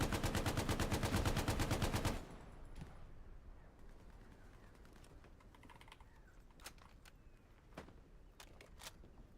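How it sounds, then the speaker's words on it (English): Gunfire in the video game Hell Let Loose on the Tobruk back-alleys map: a loud, rapid burst of automatic fire for about two seconds, then scattered single shots cracking at a distance. "someone's shooting at me that they could see me on the second floor"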